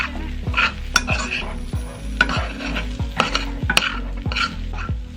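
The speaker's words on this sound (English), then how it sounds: "just gonna give it a stir" A spoon stirs a coconut milk dish in a pot in regular, rhythmic strokes, each scrape landing about every half second over a steady, close bubbling sizzle, with no talking.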